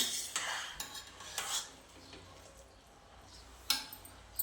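A spoon stirring dal palak khichdi in a pot on the gas stove, several quick metallic scrapes and clinks against the rim with quiet gaps between, close and moderately soft, with no talking.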